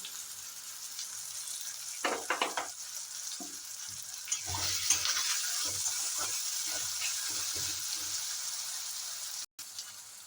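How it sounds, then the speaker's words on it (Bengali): Onions frying in oil in a pan with a little salt, cooked until lightly reddened for a Bengali-style chicken curry: a steady close sizzle with intermittent stirring scrapes and clatter, and no talking. "পেঁয়াজটা একটু লাল লাল করে ভেজে দিব।"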